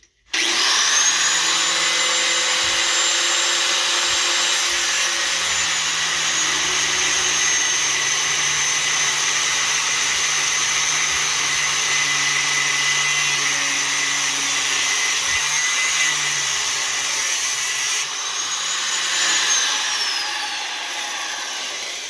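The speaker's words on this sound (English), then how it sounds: "So I cut the bolt" Power tool cutting through a bolt on a garden cultivator: a steady, loud, high-pitched whine with grinding noise that runs almost unbroken for about twenty seconds and eases slightly near the end.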